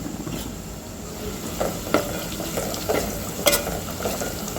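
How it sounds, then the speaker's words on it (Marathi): Ginger-garlic paste frying in a pan for Khandeshi masala dal khichdi, a low steady sizzle broken by several light scraping stirs and an occasional soft clink of a utensil. "आता यामध्ये आपल्याला अद्रक लसूणची पेस्ट घालून घ्यायची आहे"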